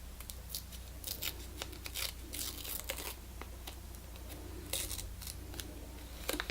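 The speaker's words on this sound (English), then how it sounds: "I'm going to clip the end, but then I'm going to tear it" Washi tape being snipped at the end with scissors and then torn lengthwise down the middle for an altered book craft project, giving close, crisp snips followed by papery crinkling and tearing over a steady low hum.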